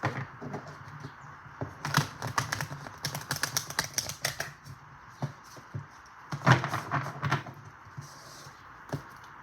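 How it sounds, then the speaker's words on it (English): Cards are shuffled in quick bursts of crisp riffling clicks and taps, close up, with brief pauses between rounds. "One more shuffle."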